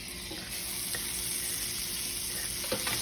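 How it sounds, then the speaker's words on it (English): Steady close sizzling of garlic frying in butter in a pan, a continuous crackling hiss with a few light stirring clicks, no voices. "you gonna cook that garlic a little bit"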